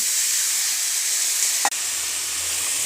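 Potatoes sizzling in hot oil for methi aloo, a steady broadband hiss that continues with one brief sharp dip partway through. No voices.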